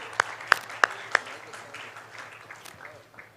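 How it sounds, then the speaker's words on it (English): A few loud, separate claps open, then scattered applause follows at a lower level, welcoming Karun Chandok onto the stage at the inauguration event for the Madras International Karting Arena. "a big round of applause to welcome Karun back up"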